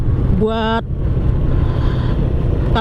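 A Yamaha Mio scooter fitted with a used carburetor runs on the road, its engine a loud, steady close drone with a brief tonal whine early on, then settling back as the throttle eases off.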